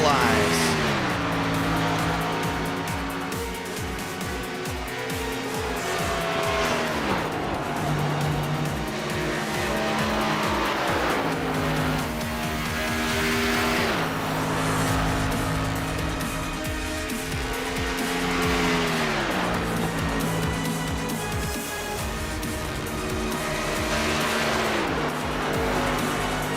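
Toyota Supra stock cars in an iRacing NASCAR Xfinity race at Darlington roar past in repeated rising and falling engine sweeps, tires squealing at moments, loud and continuous under commentary.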